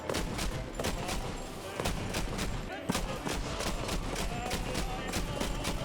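Machine gun fire in the World War II shooter Battlefield V: steady rapid bursts of automatic shots, moderately loud over a dense battle din, with no clear speech.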